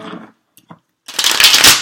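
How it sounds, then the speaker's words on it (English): After a few faint taps, tarot cards are shuffled in a loud, close riffling burst lasting under a second. "I think of that as I shuffle these cards"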